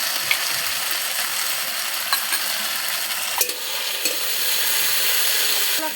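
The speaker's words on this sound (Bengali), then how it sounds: "এবার কষানোর মধ্যে টমেটো দিয়ে দিচ্ছি, মশলা কষানোর মধ্যে।" Chopped tomatoes hit hot masala while chicken kosha cooks, giving a steady close sizzle and frying hiss with scraping, stirring clicks from the pan throughout.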